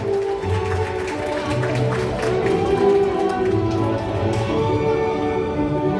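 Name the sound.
wedding guests applauding again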